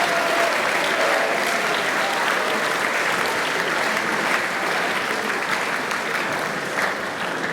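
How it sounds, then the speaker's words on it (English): Sustained audience applause at a school inter-house partsong competition, a dense, steady wash of many clapping hands filling the room for several seconds and easing slightly toward the end. "And a big round of applause for all of these guys who helped me too."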